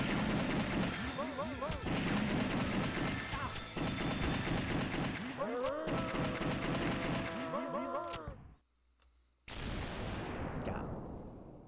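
Gunfire from a Sega Saturn shooting game, loud repeated shots and crashing impacts packed with game music and effects, a brief drop to near silence, then a sharp burst resuming and tailing off.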